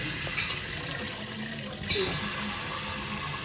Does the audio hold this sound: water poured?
yes